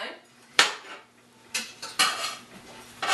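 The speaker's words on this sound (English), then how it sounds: "we're going to saute those in 2 tablespoons of olive oil until they are tender" Vegetables sautéing in olive oil, stirred with a utensil that clanks sharply against the pan several times in irregular bursts, close by over a faint sizzle.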